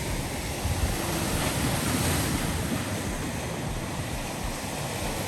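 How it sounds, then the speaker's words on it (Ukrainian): Waves on Lake Ontario near Toronto surge and wash ashore in a steady roar, mixed with gusty wind buffeting the microphone, close and loud with no talking. "А тут Торонто, дивіться, які хвилі. Це наше озеро Онтаріо."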